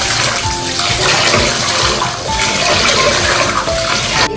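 Soaking water poured off rice being prepared for kajjaya, a steady gushing splash running loud and continuous with no talk over it.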